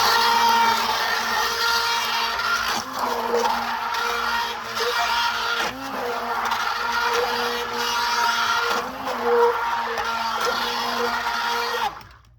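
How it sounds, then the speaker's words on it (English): An immersion blender whirs steadily while mixing goat milk soap batter, a continuous close motor drone with brief dips and changes in pitch, cutting off abruptly at the end. "now we're going to immersion blend this together"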